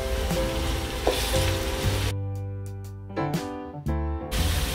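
Ginger garlic paste frying with softened onions for mutton biryani hisses in a loud, close sizzle that cuts out briefly behind a humming tone before resuming.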